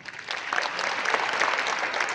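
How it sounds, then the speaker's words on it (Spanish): A congregation inside a basilica breaks into applause, a dense, even patter of many hands clapping that swells quickly and holds steady, heard close and without speech. "¿Qué tal si les brindamos un aplauso?"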